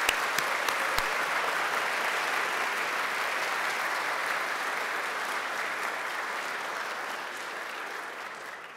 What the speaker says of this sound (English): Let's have a round of applause for all of our award recipients.